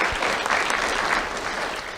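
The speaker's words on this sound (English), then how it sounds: "let's give them a round of applause" Sustained applause from a crowd at an awards ceremony honours civilian support unit volunteers, a dense, even roar of many hands clapping together without a break.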